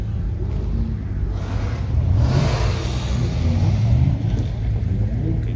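A Toyota Celica soft top revs at a car meet, its engine rumble swelling from a steady low drone into two louder surges before settling, heard fairly close with no talking.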